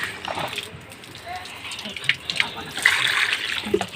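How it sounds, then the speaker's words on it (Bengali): Water fetched from a tap is poured onto aloe vera plants in the morning, a short uneven splashing and trickling that comes and goes while someone talks over it. "এই দেখো আমি এখন গাছে জল দেবো"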